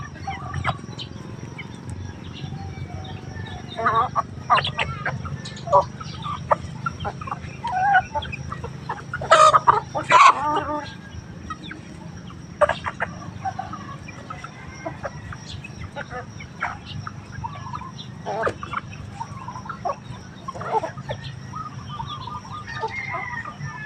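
Backyard chickens cluck and chatter close by in an irregular stream of short calls with a few louder squawks, set against a steady outdoor hum with faint background noise.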